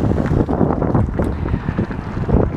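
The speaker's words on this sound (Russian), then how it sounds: "ой, ветер какой, не знаю, как встать, чтобы можно было говорить" Strong wind buffets an outdoor microphone, producing a loud, continuous low rumble with gusty surges throughout and no voice heard.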